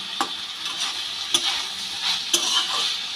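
A spatula presses and mashes boiled cauliflower and potato in a pan, with a few distinct scraping knocks roughly a second apart over a soft, low sizzle, close by and without talk.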